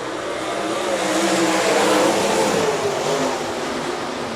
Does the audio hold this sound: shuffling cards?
no